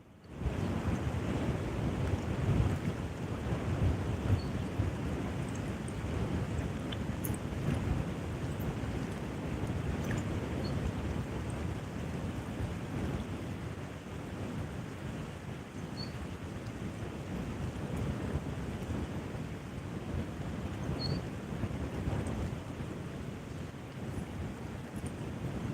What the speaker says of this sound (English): So much for the wind not blowing as much.